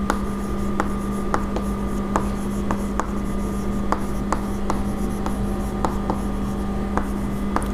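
Marker or chalk strokes scratch across a board during an accounting lesson, with short regular ticks and rubs over a constant low hum, close and steady, with no speech.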